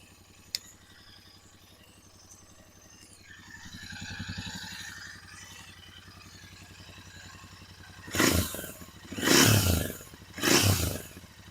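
Royal Enfield Interceptor 650 motorcycle engine running close by: a quiet start-up and low idle build into three loud, separate revving bursts near the end.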